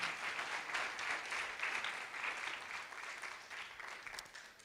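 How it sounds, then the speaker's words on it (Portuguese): Church congregation applauding steadily throughout, a dense, moderately distant wash of clapping with no voices over it. "Você pode aplaudir ao Senhor?"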